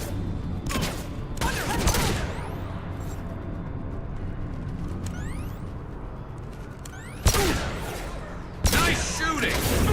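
Gunfire from a firefight in the video game Mass Effect 2, with dense, continuous shooting and several loud, sharp bursts standing out, under a steady bed of battle noise.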